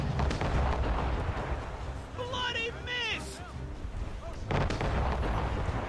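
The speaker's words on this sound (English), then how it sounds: "Trim off the wind! Fire! It just auto targets for you." Heavy broadside booms from a sailing warship's cannons in Assassin's Creed Rogue, a dense rumbling barrage of blasts that fills the clip, with a brief lull midway where excited voices speak over the game.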